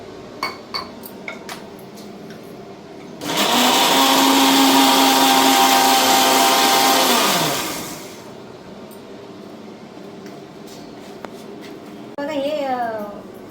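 A mixer grinder whirs loudly for about five seconds, blending a batter of rava and curd. A few clinks come before it and a voice speaks near the end.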